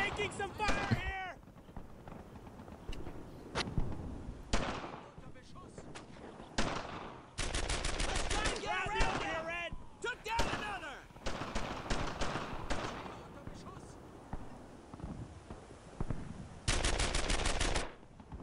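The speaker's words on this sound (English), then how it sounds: "I'm taking some fire here!" Machine guns and rifles fire in the game Brothers in Arms: Earned in Blood, in loud rapid bursts and single shots that recur throughout, with voices shouting between the volleys.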